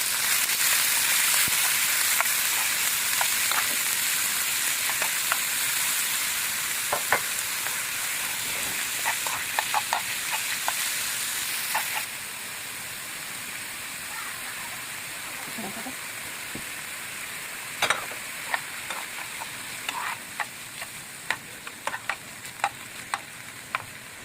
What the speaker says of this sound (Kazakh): Енді где-то 5 минут майда қуырып аламыз, бәрін араластырып.